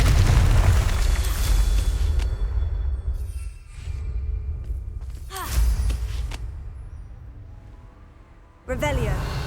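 Confringo fire spell from Hogwarts Legacy going off as explosive blasts, with two sharp booming bursts in the middle and near the end over a steady rumbling game ambience.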